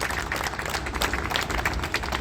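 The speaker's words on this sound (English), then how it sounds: "First of all, round of applause for Laura and her great leadership" Crowd applause at a 2024 Capitol rally in Denver, a dense, steady wash of clapping and cheering that holds for the whole stretch at a fairly even level with no clear speech over it.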